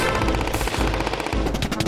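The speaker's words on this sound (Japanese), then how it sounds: "一斉射撃、発射。" A rapid volley of gunfire in Minecraft, rattling machine-gun-like bursts firing continuously and loudly in quick succession with brief gaps.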